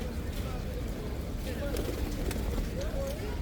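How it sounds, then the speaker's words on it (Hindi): Pigeons coo softly in the background at the Kaaba, Masjid al-Haram, a few low murmuring calls amid steady ambient hum and faint distant voices. "बहुत ज़्यादा कबूतर है यहाँ पे"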